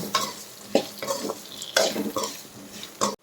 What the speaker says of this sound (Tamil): எல்லாத்தையுமே காயோடு சேர்த்து நல்லா வணக்கிக்கோங்க.